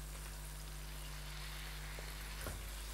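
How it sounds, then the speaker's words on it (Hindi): Thinly sliced boneless chicken fries steadily in a pan, giving a continuous, even sizzle throughout with a faint steady hum underneath and no talk. "अब इसमें आप शामिल करेंगे जो थिनली स्लाइस्ड चिकन बोनलेस, और उसमें आपने चिकन को फ्राई करना है।"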